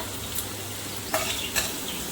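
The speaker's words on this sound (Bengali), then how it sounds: "পেঁয়াজটা লাল লাল করে ভাজা হোক" Onions frying in oil in a home kitchen give a faint, steady sizzle, with a few brief stirring scrapes of a spatula against the pan, no voices.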